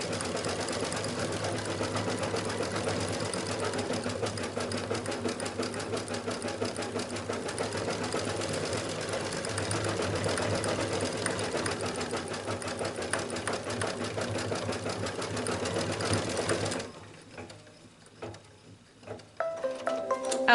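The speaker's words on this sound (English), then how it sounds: "Now we are stitching the green color. I'm using rayon thread." A sewing machine stitching with green rayon thread runs in a steady, fast mechanical rattle for about seventeen seconds, then stops, leaving faint handling noises.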